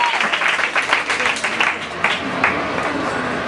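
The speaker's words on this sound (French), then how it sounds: "On acclame le Seigneur pour le papa." A church congregation applauds loudly and steadily, dense clapping from a crowd filling the room, with voices mixed in beneath the applause throughout.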